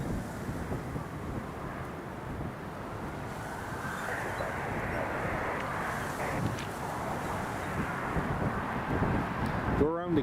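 German Airways airliner landing at Newcastle Airport during Storm Isha, a distant jet roar buried under gusting wind noise on the microphone, steady and faint throughout.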